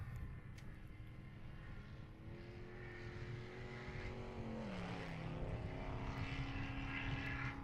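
A high-horsepower off-road race vehicle at an Ultra4 desert race roars past at a distance, its engine note building steadily and sweeping downward in pitch as it goes by over a continuous rumbling background.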